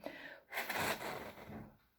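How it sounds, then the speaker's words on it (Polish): A short nasal inhale followed by a strong breathy blow onto a colourful toy pinwheel during a speech-therapy breathing exercise, close and fairly loud, fading out at the end. "Nosem nabieramy i wydmuchujemy."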